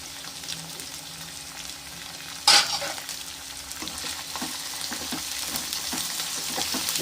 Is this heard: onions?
yes